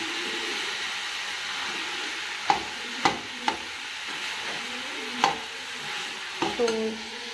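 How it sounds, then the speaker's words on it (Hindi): A spoon stirs spiced lingad (fiddlehead fern) vegetable curry with potatoes in a pan as it sizzles steadily. A few sharp scrapes and knocks against the pan stand out over the continuous frying hiss, with no voices. "सब अच्छे तरह से आप इसको मिक्स कर दें जिससे जो मसाला है सारा इसमें मिक्स हो जाए"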